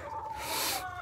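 A laying hen gives a brief, close clucking call on a backyard farm, one drawn-out vocal note with no talk over it.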